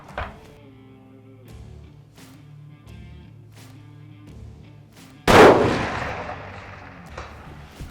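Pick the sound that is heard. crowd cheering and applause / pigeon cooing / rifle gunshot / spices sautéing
rifle gunshot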